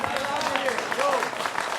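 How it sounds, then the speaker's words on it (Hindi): Clapping from a TV studio debate panel, rapid hand claps sounding close and steady beneath someone talking over them. "I am clapping for you Shahzad."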